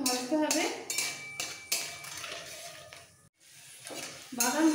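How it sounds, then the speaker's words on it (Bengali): Peanuts being stirred and dry-roasted in a pan for masala dosa: a metal spoon scrapes and clatters against the pan in repeated bursts, with a faint sizzle. "এবার একটু নাড়াচাড়া করে একটু হালকা কালারটা চেঞ্জ হওয়া পর্যন্ত ভাজতে হবে।"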